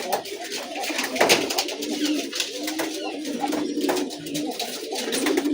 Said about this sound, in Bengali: তো ওরা সকালে একটু বেশি ডাকাডাকি করে, যখন কবুতরের খোপগুলো ছাড়া হয় তখন।